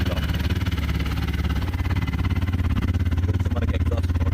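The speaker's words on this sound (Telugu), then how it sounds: "అలాగే ఎగ్జాస్ట్ కూడా చూద్దాం." Exhaust note of a new 2025 TVS Apache RTR 160 4V motorcycle at idle, recorded up close: a loud, regular putter with quick, even pulses that hold steady throughout.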